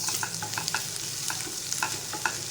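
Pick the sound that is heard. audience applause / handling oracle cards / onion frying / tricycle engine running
onion frying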